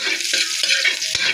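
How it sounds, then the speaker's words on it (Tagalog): Garlic and onion sauté for pakbet, a dense sizzle with quick stirring scrapes and a couple of light clinks of a utensil against the pan, close and without talk. "magsasangkutsa na tayo ng bawang. Sasabay na rin natin ng sibuyas."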